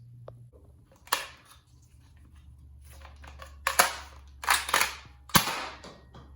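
A Nerf Lynx single-shot foam blaster fires several sharp, close pops spaced a second or more apart, each a quick snap with brief mechanical clicks between, against a quiet background.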